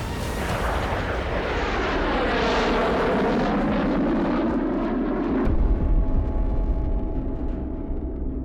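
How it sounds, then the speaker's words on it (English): An RAF Typhoon fighter jet taking off on a runway in full afterburner: a huge, continuous roaring thunder that swells and shifts pitch as it passes, loud and close with no voices. "Sat on the end of the runway selecting max reheating a Typhoon is a feeling like no other."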